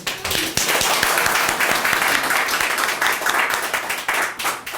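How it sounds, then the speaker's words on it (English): Audience applause for featured readers at a Writers Guild reading night, a dense, steady wash of many hands clapping close by, sustained at even loudness throughout without talk. "let's have a round of applause for our wonderful featured readers from all over"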